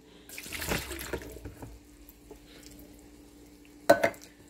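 Brine water from canned green jackfruit being drained, a soft splashing pour into a sink in two short bursts, the second louder and brief, with quiet pauses between.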